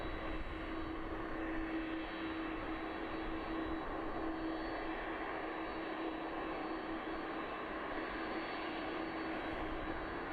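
An aircraft comes in to land at East Midlands Airport, its engines a steady, continuous roar with a sustained whine, heard from a moderate distance without any voices.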